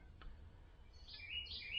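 Bird chirps high and clear in the second half, moderately near, over a low steady background rumble in a quiet workshop setting.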